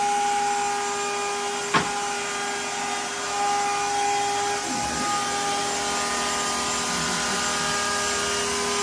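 A CNC router carves with a quarter-inch bit at about 80 inches a minute, giving off a steady loud whine with a hum under it, a brief sharp tick and small changes in pitch as it cuts.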